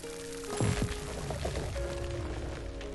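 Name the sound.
watering crops in video game Grow: Song of the Evertree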